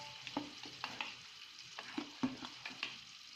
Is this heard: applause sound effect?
no